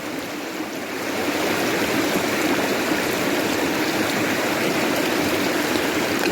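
A river stream flowing steadily in a broad, close rush of water that swells in after the first second and then holds even throughout, with no voices.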